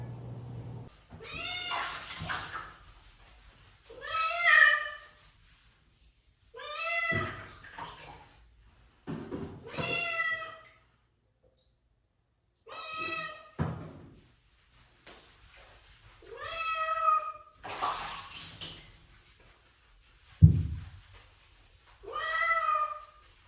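A cat meows over and over in drawn-out, complaining cries while being bathed, with splashes of water between the calls.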